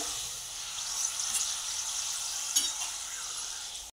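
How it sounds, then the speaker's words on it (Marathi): Papad frying in hot oil: a steady, faint high hiss of sizzling with a couple of soft pops, continuous throughout with no voices. "अशा प्रकारे आपण सर्व पापड तळून घेऊया"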